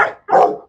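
A dog in a group of dogs gives two sharp, loud barks close by, the second longer than the first.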